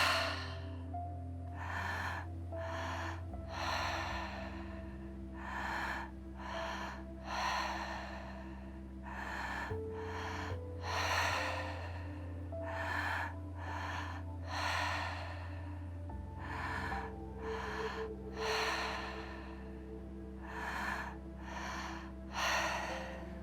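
Deep, rhythmic breathing during a breathwork meditation for sleep: long, even inhales and exhales repeat steadily, close and clear over soft sustained background music, with no talking.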